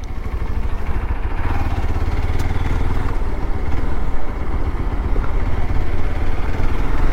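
A Hero Xpulse 200 4V Pro motorcycle engine runs loud and close, revved hard and held at high RPM in a constant, buzzing drone with a slight rise toward the end.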